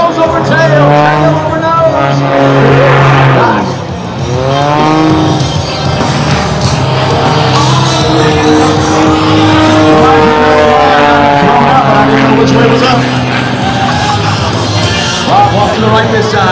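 The engine of an MX2 aerobatic plane at an air show drones loudly, rising and falling in pitch as it climbs, rolls and tumbles overhead, while an announcer talks over it.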